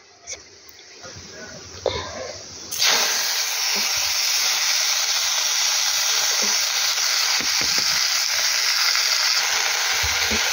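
After a quieter stretch with small kitchen clatter, a loud, steady sizzle bursts in as food hits hot oil in a pan and keeps hissing evenly to the end, close and dominant.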